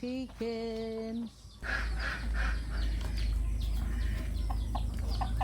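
Chickens in a tropical rural backyard in Leyte give a sustained, song-like call at first, followed by a busy run of clucks and bird calls over steady outdoor background noise.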